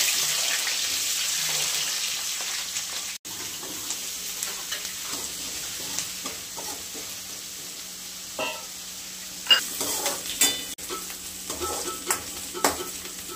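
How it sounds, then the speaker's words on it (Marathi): Mustard seeds and cumin sizzle in hot oil as a Marathi spinach dish starts, a steady frying hiss with soft stirring scrapes and a few crackles growing busier toward the end, close up with no talk. "पहिले मोहरी टाकून घ्यायचं आपण. मोहरी जिरं टाकून घ्यायचं."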